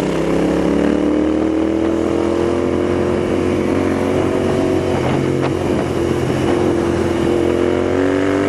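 A Royal Enfield Interceptor 650 motorcycle drones steadily while being ridden, its engine hum held at an even pitch beneath constant wind rush, with no talk.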